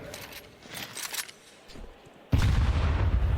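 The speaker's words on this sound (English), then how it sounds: "Fantastic grenade here from Tenier." A grenade bursts in a Counter-Strike 2 match: a sudden, loud, deep blast erupts near the end after quieter scattered game noise, its rumble lingering to the close.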